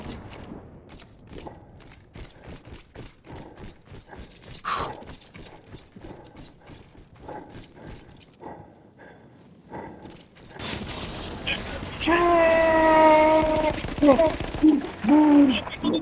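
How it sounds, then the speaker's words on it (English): Battlefield 1 combat on the Italian front in the Dolomites, where an artillery piece is destroyed: a sharp blast early on, then scattered cracks and a swelling roar of explosions and gunfire with whining tones, with no talking. "That explosion was one of the sweetest sights of the war"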